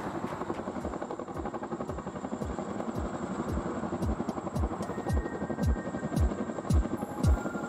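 A Chinook helicopter sets down on a small hill peak, its heavy rotor chop beating in a steady rhythm with a whining turbine hum, moderately distant and without talk.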